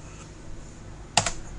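A quick cluster of keystrokes on a computer keyboard while entering a command in an Arch Linux virtual machine, a single short tapping burst close up over a steady hum.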